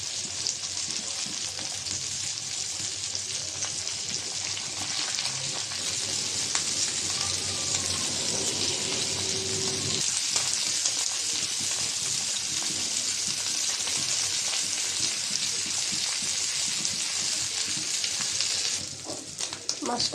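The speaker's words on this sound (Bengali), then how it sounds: "মাছটা ভাজা হয়েছে, আমি একটু উল্টিয়ে দিব সবগুলোই।" Fish pieces fry in hot oil in a pan, giving a steady, loud, close sizzle that runs unbroken throughout, with faint stirring and handling noises underneath.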